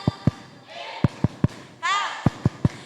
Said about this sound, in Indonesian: Mau tepuk Ilham juga?